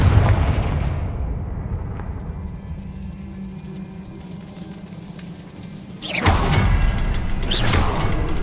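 A Confringo blasting spell bursts with a loud explosive whoosh and crackling impact in Hogwarts Legacy, standing out sharply over a low, steady rumbling game ambience, followed by a second burst.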